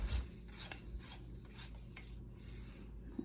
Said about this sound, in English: And then we take the next pipe and we screw that into that.